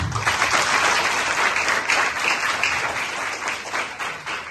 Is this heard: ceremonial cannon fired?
no